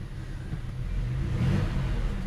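A car engine with a replaced GM 4T65-E automatic transmission revs in 3rd gear while the vehicle barely moves, giving a steady, close mid-pitched drone that swells slightly toward the end.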